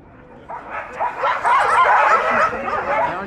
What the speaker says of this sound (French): Alors les chiens.